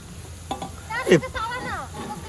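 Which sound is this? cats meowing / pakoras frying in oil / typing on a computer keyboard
pakoras frying in oil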